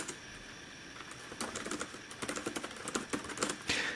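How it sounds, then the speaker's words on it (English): Keys clatter on the keyboard of an Acer Aspire Switch 11 2-in-1 laptop, starting in scattered taps and building into a quicker, irregular burst of close, crisp strokes with no talk. "We can do some typing."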